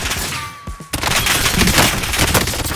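FAMAS burst-fire rifle shots in Warzone, loud and close, a short shot then dense rapid bursts of gunfire with booming impacts filling the rest without pause.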